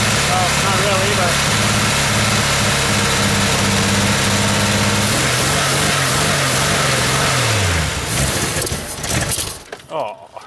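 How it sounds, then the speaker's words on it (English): Engine idling roughly, a loud, close, uneven rumble that holds steady before the revs sag and stumble as the choke kicks in, then cuts to a quieter sputter near the end. "see that choke kick back in and screwed it all up"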